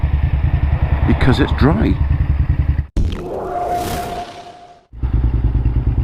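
A Honda Firestorm VTR1000 V-twin motorcycle idles and rumbles with a pulsing, steady beat, broken by a loud wind-buffeted pass, then returns to the idle throb; someone speaks briefly over it.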